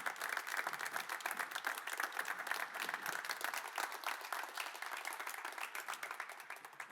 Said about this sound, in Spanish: ¿Por qué no tomamos un momento y le damos un aplauso de alabanza?